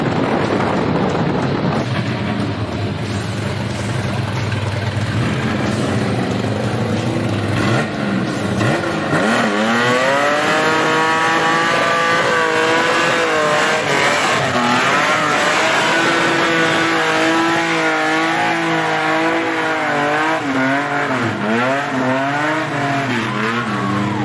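A 400 hp Opala Gran Luxo revs loud and close, its engine note climbing and falling through repeated surges as it accelerates hard, with a faint high whine above.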